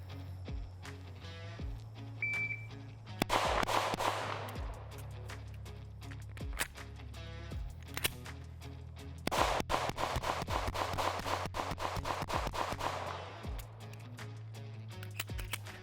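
Sharp shots from a Smith & Wesson M&P compact pistol crack out close by, first a few spaced shots, then a rapid string of closely spaced shots, with quieter handling between them.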